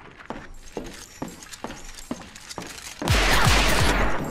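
Gunfire from armed dolls in the game Perception: evenly spaced single shots ring out in a steady rhythm, then a louder, dense burst of rapid fire takes over for the final second or so.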